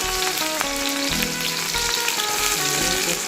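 Two green chillies hitting oil in a hot wok, giving a loud, dense, continuous crackling sizzle heard up close without any talking.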